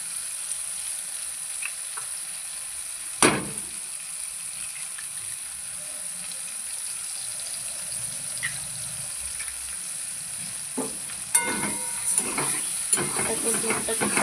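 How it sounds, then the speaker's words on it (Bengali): Two eggs frying in a pan of oil while making pasta, a steady close sizzle with a few sharper crackles and stirring clatters near the end. "তারপর ডিমটাকে ভালো করে ভেজে নেবো"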